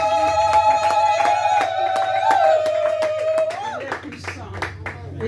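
Church congregation clapping hands in a quick, regular rhythm, sharp claps over a sustained sung or played tone and voices, fairly loud and close.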